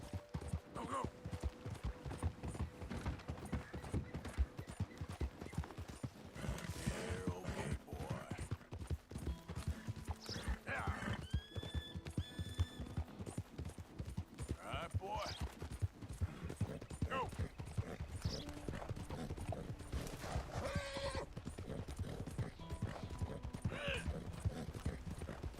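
Horse hooves clip-clop in a steady trotting rhythm in Red Dead Redemption 2, with a brief neigh and faint in-game mechanical clatter and distant gunfire-like pops, loud and continuous throughout, with some talk layered over it.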